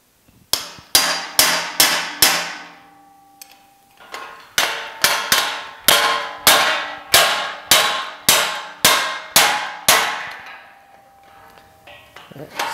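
A hammer drives a steel chisel against the weld on a car trailer, about sixteen loud, ringing metallic strikes in two quick bursts separated by a short pause.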